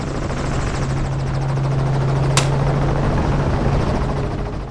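Steady, loud helicopter rotor noise with a constant low drone and chopping texture, continuous throughout with no voices.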